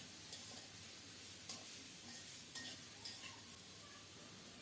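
Chopped ridge gourd hits a pan already frying tomato and turmeric, giving a steady faint sizzle broken by light stirring scrapes and taps at regular intervals.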